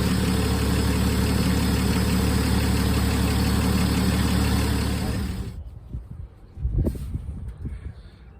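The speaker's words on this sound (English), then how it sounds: "Cold start, ladies and gentlemen." A 1962 Plymouth V8 idles loudly and steadily after a cold start with a dense, continuous rumble, then cuts off sharply, leaving a few quieter bumps and knocks.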